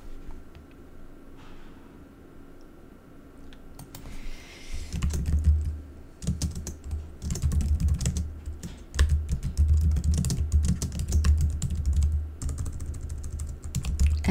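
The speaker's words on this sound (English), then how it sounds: "And I'm just going to type in here a description." Typing on a computer keyboard, a quick irregular patter of close key clicks that starts softly and then grows busier and louder with brief pauses between bursts.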